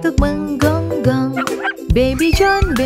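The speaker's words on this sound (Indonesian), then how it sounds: "Bingo punya mulut untuk menggonggong." A cartoon puppy barks in a series of bright, bouncy yips and bow-wows, close and loud, with light jingling between barks and no talking.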